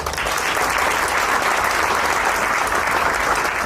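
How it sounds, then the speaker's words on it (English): Audience applause at a company's 15th anniversary event, steady and dense, continuing loudly for the whole stretch without pauses or speech. "So please, a very very huge round of applause for her."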